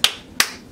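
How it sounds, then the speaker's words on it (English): Two sharp hand claps ring out close and loud, evenly spaced about a third of a second apart as part of a simple rhythm pattern, each with a short bright decay. "Clap, clap, clap."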